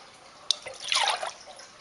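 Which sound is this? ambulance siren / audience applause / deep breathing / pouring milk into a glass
pouring milk into a glass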